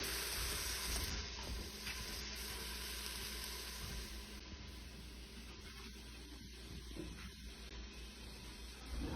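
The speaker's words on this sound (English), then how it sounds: "There we got stuff sauteing up." Vegetables sizzle and fry steadily in a hot pan at a café cooking demo for borscht, a continuous close hiss with faint stirring and steam, no talking.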